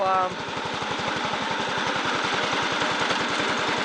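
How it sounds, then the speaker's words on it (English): A Bolens riding lawn mower with a Kohler engine chugs steadily nearby, its low exhaust pulses beating in an even rapid rhythm throughout, with a brief tonal whine at the start. "this engine chugs along nice"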